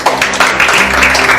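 A group applauds at a celebration aboard a cruise ship, with dense, steady clapping that stays close and loud for about a second and a half.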